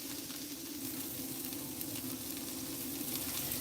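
Jammy onions frying in oil in a pan, a steady close sizzle that carries evenly throughout with no talking over it.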